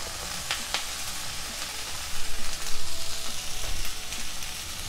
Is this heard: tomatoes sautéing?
yes